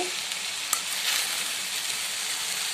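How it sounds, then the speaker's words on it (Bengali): Potatoes fry in a pan with a constant close hiss and sizzle, a few faint clinks over it and no voices. "এখানে আমি আলু ভাজি বসাই দিয়েছি"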